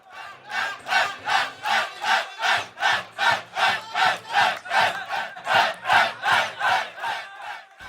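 Football crowd roaring at the KMCC Saudi Super Cup final in Riyadh's Dirab Durrat Al Malaab stadium, a loud rhythmic chant swelling and falling in steady pulses about twice a second, sustained throughout with no talk over it.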